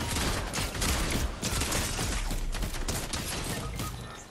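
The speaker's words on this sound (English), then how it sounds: "somebody just shot me from the right" Rapid gunfire in the Fortnite video game, dense bursts of shots crackling continuously and loudly with mechanical clatter mixed in, no talk.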